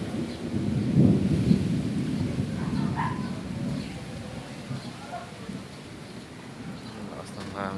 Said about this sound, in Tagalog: Mukhang malakas guys yung baksak ng ulan na to. Na ang lakas ng kulog